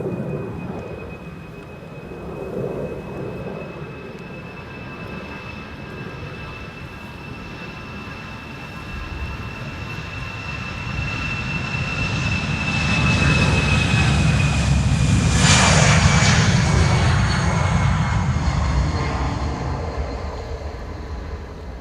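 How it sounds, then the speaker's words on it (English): A China Southern Cargo Boeing 777 freighter bound for Guangzhou takes off from Schiphol's Polderbaan runway 36L. Its jet roar starts as a distant whine and swells into a broad, heavy rumble, then slowly fades. "it's time for the angry Chinese 777 freighter to Guangzhou to take off."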